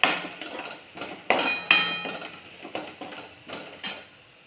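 A spoon knocks and scrapes against a metal pot while food is stirred in a home kitchen, making sharp clinks and taps at irregular intervals with short pauses between strokes.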